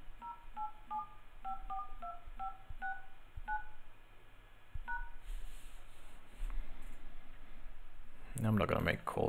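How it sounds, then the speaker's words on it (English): Telephone keypad tones dial a hotline, a quick series of short evenly spaced beeps in irregular groups, followed by faint clicks and a louder burst of handling noise at the end. "we're going to call the Bitcoin hotline"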